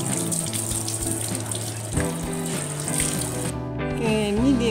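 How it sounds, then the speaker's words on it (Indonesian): Tap water runs steadily over peeled mawang fruit being rinsed by hand, a close, continuous splashing rush that lasts the whole moment. "Buang dalam air mengalir ni supaya getah dia tidak melekat di tangan."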